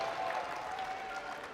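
Crowd cheering and applauding at an Apex Legends esports championship, a steady dense wash of clapping and cheers at moderate loudness with no break.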